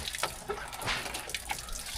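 Water runs from a household tap, a steady splashing flow with small bursts and drips, close and alone without talk.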